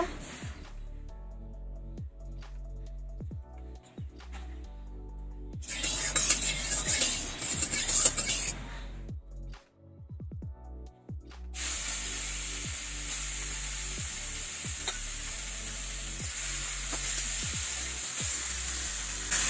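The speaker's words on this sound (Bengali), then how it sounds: "মাছগুলো ভালো করে ভেজে নেবো।" Salted, turmeric-rubbed fish frying in hot oil in a wok: a dense, steady sizzling hiss that flares and later settles into a continuous spray-like crackle, punctuated by repeated utensil clinks and knocks.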